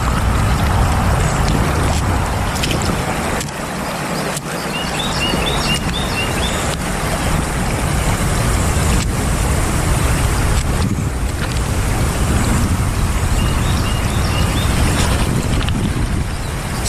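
Strong gusts batter the microphone outdoors by a creek, producing continuous loud rumbling buffeting that fills the whole stretch with no speech.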